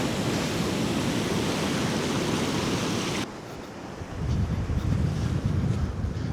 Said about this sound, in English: There you go, look, water's rushing in now.